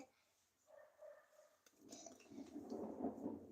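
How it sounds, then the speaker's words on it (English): Thunder rumbles in from a distance and swells into a deep, rolling roar, with a faint tonal sound and a brief click before it. "That is not rain, that is thunder."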